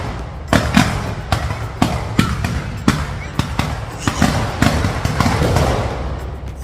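Firecrackers burst at a 2025 New Year celebration near a church, about a dozen sharp, fairly close cracks going off in an irregular volley over ongoing crowd noise.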